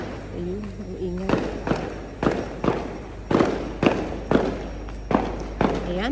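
Sharp bangs of firecrackers going off one after another for Chinese New Year in an irregular string, loud and close, with a voice talking faintly at the start.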